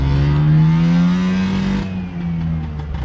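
A two-stroke car pulls hard through the gears, its engine note rising steadily, dipping briefly at a shift, then climbing again, loud and close from inside the car.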